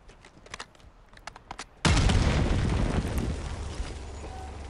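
A car blows up in Call of Duty Black Ops 6: faint scattered gunfire, then a sudden loud explosion that roars and rumbles on as a sustained blast and crackle.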